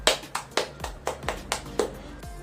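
Students in a classroom clap their hands together in about eight sharp, evenly spaced beats, close and distinct, with no talking over them.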